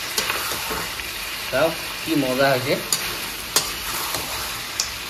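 Goat mutton fries uncovered in a pan for a curry, a steady sizzle with occasional stirring clacks while a person speaks briefly over it.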